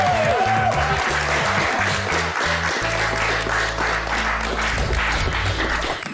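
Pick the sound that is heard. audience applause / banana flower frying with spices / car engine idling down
audience applause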